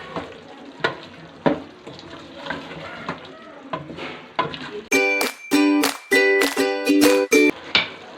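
Potatoes and peas sizzle in a hot pan in a home kitchen, a steady fry broken by repeated bright metallic clinks and scrapes of a spoon stirring against the pan.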